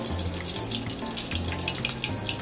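Tempura coated in batter deep-frying in hot oil, a steady soft crackling sizzle with scattered bubbling pops, close and fairly quiet, no voices.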